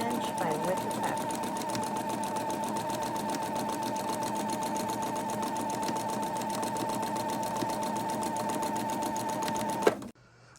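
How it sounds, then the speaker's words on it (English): A sewing machine runs steadily for about ten seconds, stitching width-of-fabric quilt strips 3.5 inches wide for a comic quilt, a continuous close whir with rapid needle rhythm before stopping abruptly near the end. "we're just sewing our width of fabric"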